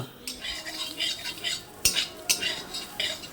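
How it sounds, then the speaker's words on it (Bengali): Boiled soybean chunks fry with turmeric and salt in a pan of oil, while a spatula scrapes and clinks against the pan in quiet, irregular stirring strokes over a faint sizzle. "সেই সোয়াবিনগুলোকেই একটু লাল লাল করে ভেজে নেব"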